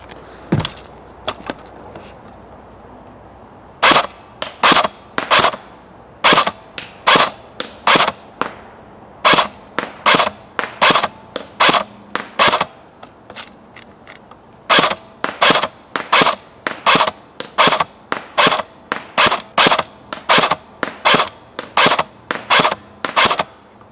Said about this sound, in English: we've got the M14 shooting test